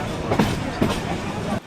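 The 707 Tista Express, an intercity meter-gauge train running from Dhaka's Kamalapur station to Dewanganj, rumbles along at speed. A steady roar carries faint clickety-clack wheel beats on the rails.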